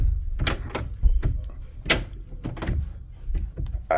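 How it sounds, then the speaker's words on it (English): A locked sliding balcony door in a Queen Mary 2 sheltered-balcony cabin being tried, a series of close rattling thumps and clunks spaced unevenly across a few seconds, with no speech. "And I can't get out the door because Dom's locked it"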